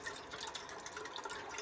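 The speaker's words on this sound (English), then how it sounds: "So I'm going to put some water in there." Cold filtered water pours faintly into a pot for cowboy coffee, a soft, steady trickle with light splashing heard alone.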